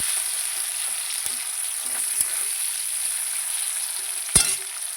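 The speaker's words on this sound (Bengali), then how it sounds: "এবার পেঁয়াজগুলো ভালো করে লাল লাল করে একটু ভেজে নেব" Chopped onions fry in hot oil in a Bengali kitchen while cooking cauliflower curry, giving a steady close sizzle with a few stir clatters and one sharp scrape near the end. No one speaks.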